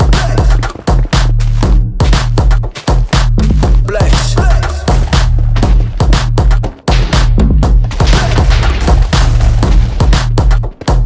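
TNT blasts in the Minecraft Nether while mining for ancient debris, a dense loud barrage of booming explosions going off in rapid overlapping bursts with brief gaps, no talk.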